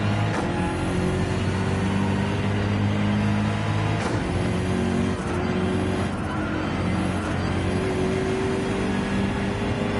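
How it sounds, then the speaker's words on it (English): A BMW M6 engine in a Gran Turismo race drones steadily and loudly throughout, with sustained harmonic tones rising gradually as the car accelerates, and no voices over it. "so we're driving the BMW M6"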